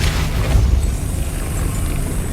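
Depulso force-push spell effect in the Hogwarts Legacy video game: a deep rumbling boom with a steady roaring wash that holds for a couple of seconds, with no voices.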